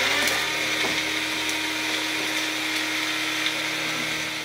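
A grinder whirs steadily as it grinds dry-roasted whole biryani spices, a continuous motor drone with grit rattling inside, loud and close with no talk.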